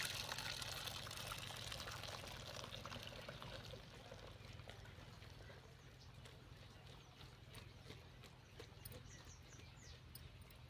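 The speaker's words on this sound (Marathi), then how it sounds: "आता यामध्ये आपण ही डाळ निथळून घेऊया" Water poured off cooked chana dal through a sieve into a pot, a steady faint rushing pour that tapers slightly, with light trickling and a few small clinks.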